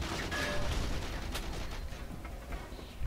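Enemies in the video game GoldenEye Reloaded open fire, producing a dense, continuous spatter of gunshots with a sharper burst partway through, loud and steady throughout with no talking.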